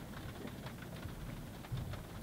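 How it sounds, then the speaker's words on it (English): Steady rain falls outside on a dark, gloomy morning by a river. It makes a continuous close hiss with scattered patters and a low rumble underneath. "It's dark and gloomy outside, rainy, just as forecasted."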